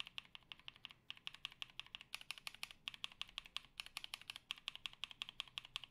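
Lubed NovelKeys Cream mechanical keyboard switches clack in fast, even typing bursts with brief pauses, crisp and close but fairly quiet, with no voices.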